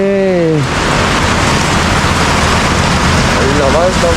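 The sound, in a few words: heavy rain pouring on tent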